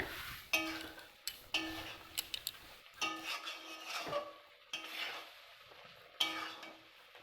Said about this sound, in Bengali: এটা আমি এখন সমানে নাড়তে থাকবো কিছুক্ষণ বাদে বাদে না হলে পুড়ে যাবে নিচে লেগে যাবে